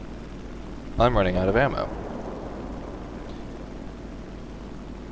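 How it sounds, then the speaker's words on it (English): A War Thunder aircraft engine drones as a low, steady hum throughout, while a player speaks briefly over it near the start. "The engine sound worried me."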